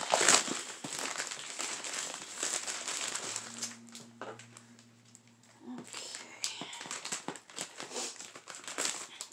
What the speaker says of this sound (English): Just get all this plastic cut off.